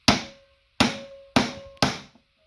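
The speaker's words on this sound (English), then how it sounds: "we're going to whack on this with a hammer and see if we can unscrew it" A hammer strikes the handle of a screwdriver four times to loosen a stuck, rusted Phillips screw, giving sharp close metallic whacks with short ringing decays at an uneven, fairly quick pace.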